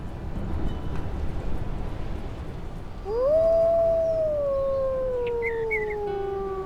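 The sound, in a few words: wolf howling in a video game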